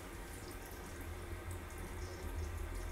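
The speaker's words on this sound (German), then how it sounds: "Und jetzt spülen wir die Pumpe, aber auch den Auslass sozusagen zuerst einmal ein paar Minuten klar." Water runs steadily through the pump and outlet of a water ionizer as it is flushed clear, a constant close splashing flow of even loudness.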